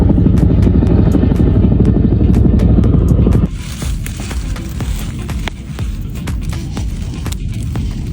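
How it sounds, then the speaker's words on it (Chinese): A helicopter flies close overhead, a loud, steady rotor throb that drops abruptly in level partway through and carries on fainter, with sharp ticking bursts and people talking faintly in the open countryside after rain. "直升机都开过来捡蘑菇了。"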